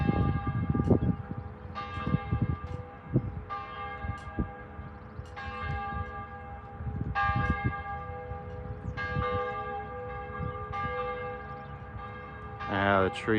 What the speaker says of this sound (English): We got a bell going, guys.